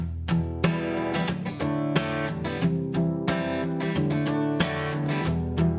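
Sustained chords ring out one after another on a keyboard instrument, each struck clearly and held, forming a slow, steady progression with no talking.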